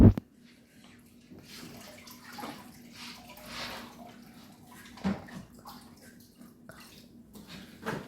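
An aquarium sponge filter is rinsed under running water: a steady, moderate stream splashes and gurgles throughout, broken by a few louder drips and knocks.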